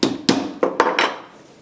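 A hammer strikes a handmade real tennis ball five times in quick uneven succession, each blow a loud, dull, close thud with a short ringing tail, no talking.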